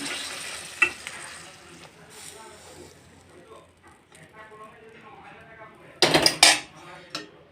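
A cooking pot of cauliflower curry is lifted off the stove with clattering metal knocks and a burst of scraping clangs near the end, over a faint background hiss while someone talks.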